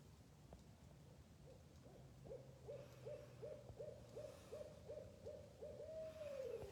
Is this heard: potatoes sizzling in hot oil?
no